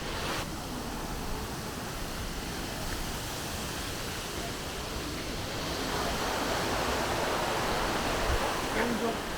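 A waterfall along the Ord River gives a continuous broadband rushing roar of falling water, steady and fairly close, swelling slightly toward the end.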